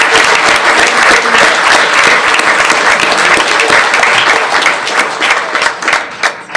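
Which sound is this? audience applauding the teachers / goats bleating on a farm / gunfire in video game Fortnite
audience applauding the teachers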